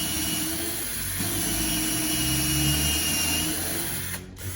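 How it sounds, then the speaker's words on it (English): A power drill runs steadily into a wooden drawer to bore a hole for a handle, with scrap wood backing the spot; the motor whines close and continuous, then cuts out near the end. "put a piece of wood behind where you're going to drill"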